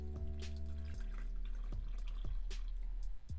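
Liquid for homemade strawberry wine, made with fruit, lemon juice and black tea, is poured into a container, giving steady trickling and splashing with a few distinct drips, close by and continuous.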